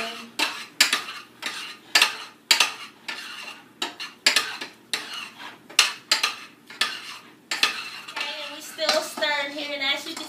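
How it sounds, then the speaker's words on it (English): A spoon stirs melted marshmallows in a pot for Rice Krispies treats, making a run of distinct scraping strokes against the metal, with a voice speaking briefly near the end. "stirring until you get like a smooth, with no lump marshmallows"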